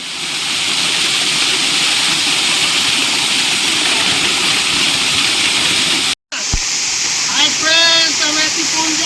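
Chakratirtha waterfall in Keonjhar, Odisha roars as a loud, steady rush of falling water, continuous throughout, with a brief cut near the end and a voice speaking over it afterward.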